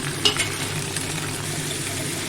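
Pointed gourd and potato frying in oil with bay leaf and dried chilli give a soft, continuous sizzle with a few faint stirring scrapes near the start.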